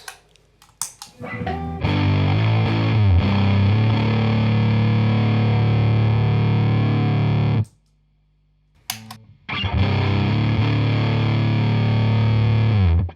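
Heavily distorted electric guitar chords through a Fuzz Face style fuzz pedal ring out loud and sustained, cut off by a brief silence, then resume with a strummed attack and thick fuzz.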